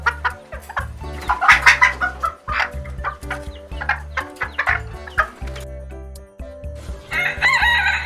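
Chickens cluck in short bursts nearby while a rooster crows, the calls overlapping in a busy farmyard chorus.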